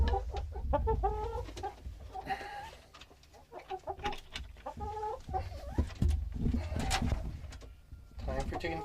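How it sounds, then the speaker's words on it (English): Chickens cluck and squawk in a busy, overlapping chorus close by as they are let out of their coop, with a person calling to them throughout. "Time for chickens to go out."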